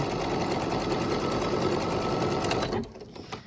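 An embroidery machine sews a wide satin stitch, a steady, fast mechanical whirring that runs loud and close, then cuts off near the end, leaving quieter handling noises.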